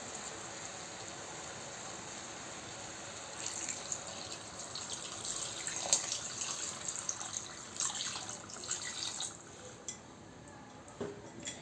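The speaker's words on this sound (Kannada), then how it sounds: "ಇದರಷ್ಟೇ ನೀರು ಹಾಕೋಣ" Water runs steadily into a cooking pot during home cooking, a soft continuous splashing with a few faint metallic clinks near the end and no talking.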